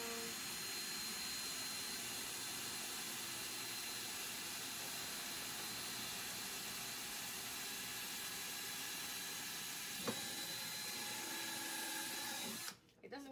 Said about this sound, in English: So we're going to go ahead and drill the holes in that.